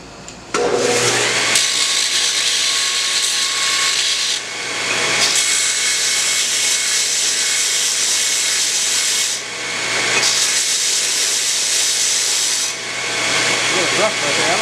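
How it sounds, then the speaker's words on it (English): A power sander grinding sharp edges off a metal part, a loud continuous abrasive whir broken by a few brief dips where the piece is lifted away. "We'll go take and put it on the sander and clean them up a little bit."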